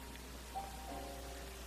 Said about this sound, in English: As the rain softened, all was calmed.